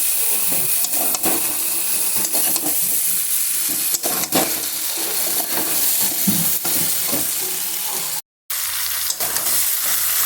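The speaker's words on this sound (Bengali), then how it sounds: "সবগুলি একসাথে ভালোভাবে আমি মিশিয়ে নিচ্ছি।" Paneer pieces with potato, carrot, beans and peas stirred in a pan of spiced masala, a steady close sizzle of frying with scraping spoon strokes and brief clatters throughout, cut by a short silent gap near the end.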